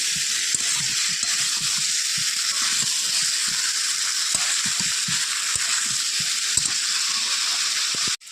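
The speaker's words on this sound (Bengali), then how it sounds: "খুব ভালো করে মশলাটার সঙ্গে কষিয়ে নেব ফুলকপি আর আলু।" Cauliflower and potato fry in spices in a pan, giving a steady close-up sizzle with scattered pops and stirring knocks, with no voices over it.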